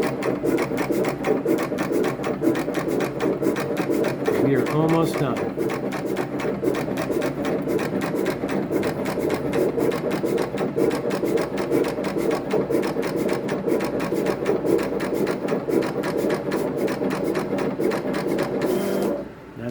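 A cutting machine works through clear printable vinyl, producing a continuous close mechanical whir and rasping drag with rhythmic ticks throughout, while a voice speaks briefly over it.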